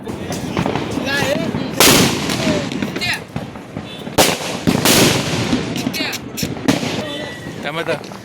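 Diwali firecrackers and bombs burst repeatedly outdoors, loud sharp bangs and crackling pops scattered irregularly across the span, with people talking and shouting underneath.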